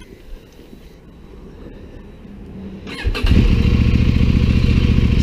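A CF Moto MT800 Explore motorcycle pulls away. A quiet idle builds, then the engine surges loudly and holds a strong, steady roar as the bike rides off close by.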